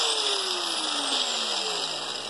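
An angle grinder runs lightly across the surface of a homemade steel gear rack, giving a continuous loud high-pitched whine with a gradually falling motor tone and no talking.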